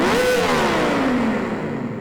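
Synthesized Lexus LFA V10 engine rev recreated in FL Studio with reverb at maximum, a rising then falling whine with a long washed, echoing tail that fades over about two seconds.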